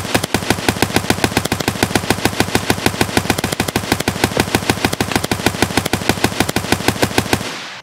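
An AKS-74U rifle in Escape From Tarkov fires a long, rapid, evenly paced string of loud shots for several seconds, then stops abruptly, with no voices.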